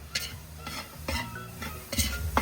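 Spoon stirring dry rice in a pan, a series of sharp scraping strokes roughly every half second with a faint sizzle underneath, close and moderately loud.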